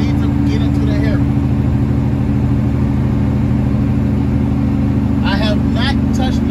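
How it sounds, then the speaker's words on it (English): A truck's Jake brake holds it on a mountain downgrade, a steady low engine-braking drone that runs throughout while someone talks over it and other cars pass nearby. "My Jake brake is doing an awesome job"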